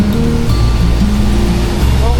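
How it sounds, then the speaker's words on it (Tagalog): Strong ocean waves roll and crash on a beach at Infanta, Quezon, a loud broad wash of surf filling the whole moment, with voices talking over it. "Lakas din ng alon, no?"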